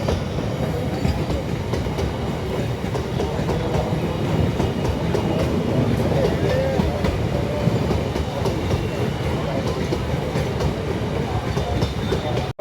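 A long, heavily loaded freight train rumbles past at close range, a continuous deep roar with steady clickety-clack of wheels over rail joints and faint metallic squeals, unbroken throughout and without speech.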